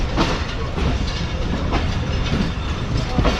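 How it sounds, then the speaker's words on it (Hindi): The Karachi Express pulls out of Karachi Cantt railway station with a steady, close rumbling clatter of wheels on rails, dense and unbroken, with no talk over it. "तो finally Karachi cantt railway station को ट्रेन ने अलविदा कह दिया है।"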